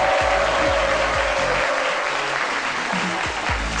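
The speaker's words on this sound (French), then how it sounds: "Merci de l'applaudir très très fort." An audience on a French-language midday TV studio set bursts into loud, dense applause that holds steady for several seconds, with a low rhythmic thump of music beneath it and no talking.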